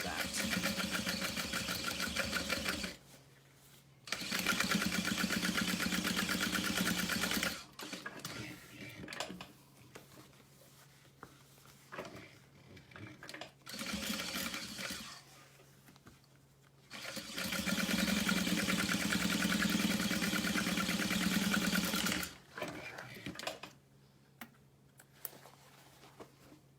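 A sewing machine top stitches a fabric wristlet at a long 4.5 stitch length, running in several steady buzzing bursts of a few seconds each, separated by pauses with quiet handling noise.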